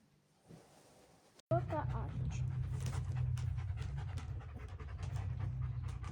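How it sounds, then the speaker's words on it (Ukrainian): A German shepherd dog pants rapidly and steadily up close, a continuous rhythmic huffing that starts abruptly after a brief quiet stretch. "Це німецька овчарка."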